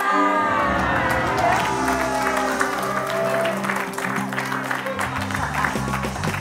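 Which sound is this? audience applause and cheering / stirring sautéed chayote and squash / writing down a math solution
audience applause and cheering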